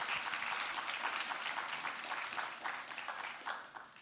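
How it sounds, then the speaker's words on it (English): An audience at a panel discussion on adaptive capacity and resilient communities gives the panelists a round of applause, with full, steady clapping from many hands that thins out toward the end. "I just want the audience to join me in giving our panelists a round of applause."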